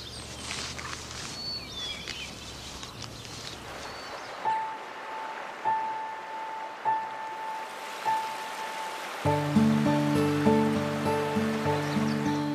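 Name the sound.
water flowing on the upper Mississippi in spring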